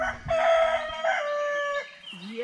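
A rooster crows loudly and close by on a homestead, one long drawn-out call with clucking fowl around it and no talk.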